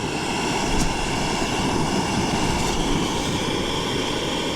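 An MSR camping stove burner roars with a loud, constant, jet-like rush at a stormy winter wild camp, heard up close and unbroken, with no voices.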